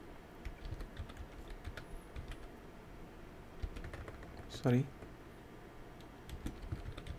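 Quiet keyboard typing while entering a title for a prayer attendance quiz, a scattering of soft key taps under low background hiss, broken by one brief louder tonal sound near the middle.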